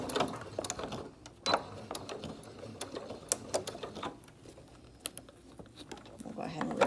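A sewing machine stitches fabric while making a 3-D singer's mask, giving a mechanical whir with irregular clicks and bursts at close range, mixed with some background speech.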